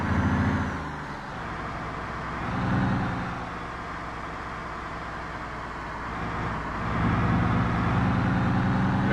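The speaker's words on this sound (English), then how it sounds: "I can hear something anyway. Maybe it was that car." A car drives up from behind on a remote Alaskan road, a steady low engine rumble that swells and eases in a few broad waves over continuous road noise, with no talk.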